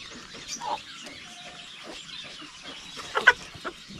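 Native chickens on a backyard Philippine farm, kept alongside guinea fowl, cluck in scattered, fairly faint bursts against soft ambient background, with a sharper cluster of calls near the end.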